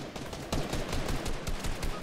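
Rapid gunfire in the Fortnite video game, a quick string of sharp shots in an uneven burst, fairly loud and close, with no talk over it.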